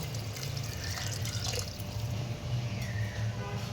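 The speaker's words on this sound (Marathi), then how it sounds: "एक तांबे आपण यामध्ये पाणी ॲड केलेलं आहे" Steady, close rushing pour of water into a pot of chicken biryani, a dense continuous splash that holds at an even level from start to finish.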